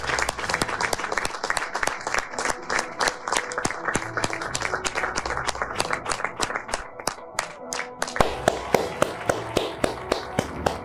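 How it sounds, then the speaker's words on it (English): Ted Cruz receives long, sustained applause from a crowd, with clapping that is steady and rhythmic at times, then sharper, more separate claps toward the end. "watch the applause that never ends"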